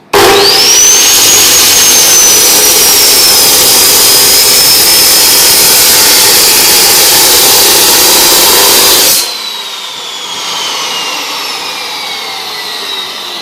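A power tool cuts through material with a loud, continuous whine and a rising and falling pitch, then abruptly drops to a quieter spinning-down hum near the end.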